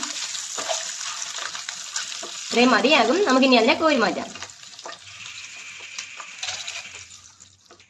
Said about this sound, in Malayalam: മുട്ടയെല്ലാം എണ്ണയിലിട്ട് ഒന്ന് മൂപ്പിക്കാതെ തന്നെ ചെറുതായിട്ടൊന്ന് വറുത്തിയെടുക്കണം.